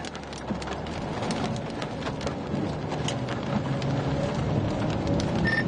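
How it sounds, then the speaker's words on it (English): Hail and rain clatter steadily and densely on surfaces during a tornado storm near Ropesville, Texas, a loud continuous patter with sharp scattered impacts throughout. "we're already getting some hail"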